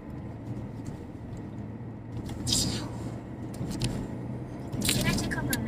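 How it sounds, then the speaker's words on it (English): Road traffic hums at a moderate distance, with two cars swishing past in brief louder surges while people talk quietly over the steady background. "Traffic. Some traffic."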